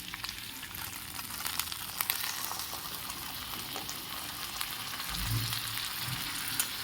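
Vegetables for dudh shukto sizzle steadily in a hot pan as a small amount of hot water is poured in, with a brief low burst midway. The frying stays loud and continuous throughout, with no talk.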